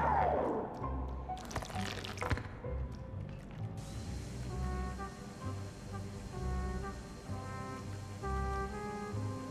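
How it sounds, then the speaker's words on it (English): Water pours and drips in the video game Luigi's Mansion 3, a soft steady trickle with scattered drips running under quiet game music throughout. "Do you see the water?"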